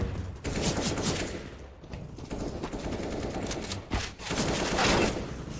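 Video game gunfire, sustained loud automatic bursts and rattling shots, close and continuous with brief dips between volleys.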